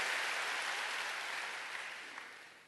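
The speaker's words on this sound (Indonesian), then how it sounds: "berikan tepuk tangan yang paling meriah buat Yesus" Church congregation applauding after a pastor's call during a sermon, a sustained wash of many hands clapping that slowly fades, heard without speech.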